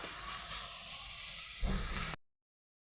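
Onion and garlic frying in a pan for a Bengali-style flat bean dish, giving a loud, steady hiss and sizzle that runs for about two seconds and then cuts off abruptly.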